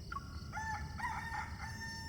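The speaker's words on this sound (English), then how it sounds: "The rooster already crowed." A rooster crows in the Love and Deepspace video game, a single drawn-out cock-a-doodle-doo with rising and falling cries over a low background hum, moderately close and clear.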